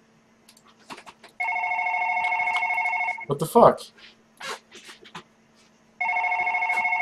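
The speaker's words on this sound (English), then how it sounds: "Why is the phone ringing?" Telephone in the One Late Night horror video game rings in a loud electronic trill, two long bursts separated by a gap, while a person talks and exclaims over the pause between rings.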